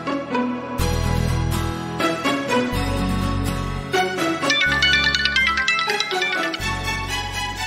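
A phone ringtone plays as a call goes out, a loud melodic tune with repeating bursts of notes and a heavy bass beat that carries on for several seconds, with no talk over it.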